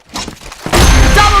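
A flash bomb detonates in a close-quarters video game shooter: brief scattered thumps give way to a sudden loud burst that hangs as a bright, ringing roar to the end.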